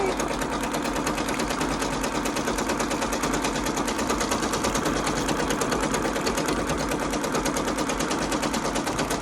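A Brother PRS 100 embroidery machine stitches out a design, its needle hammering in a fast, even, continuous rhythm, loud and close throughout.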